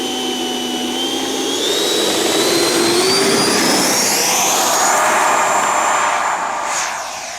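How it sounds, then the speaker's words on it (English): A Freewing F-22 RC jet takes off with a loud, sustained electric ducted-fan whine, its pitch climbing steadily as the throttle comes up, then easing off slightly as it pulls away. "Throttle up gently, rotate, clean up the flaps and gear"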